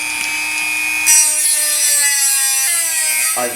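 A Dremel rotary tool cuts slots into a Helix Mega transducer mounting plate, giving a loud, continuous high-pitched whine that shifts pitch as the load changes, close up with no talking.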